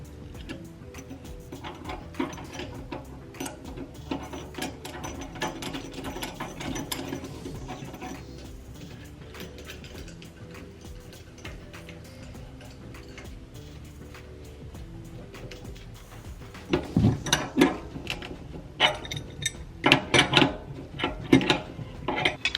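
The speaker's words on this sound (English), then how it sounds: "We'll screw it back together." Parts of a Juki DDL-8700 industrial sewing machine table being screwed back together, with steady ratcheting clicks and rattling metal, then louder clanks and knocks near the end and no speech.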